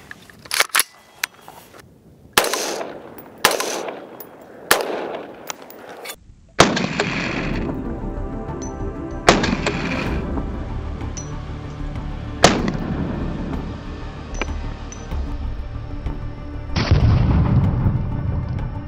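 Three 5.56 full metal jacket rounds fired at level 3 ballistic armor, each a sharp loud gunshot crack with ringing decay, spaced a few seconds apart after a run of quieter clicks and knocks.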